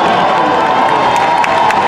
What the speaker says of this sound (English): Give a round of applause, ladies and gentlemen.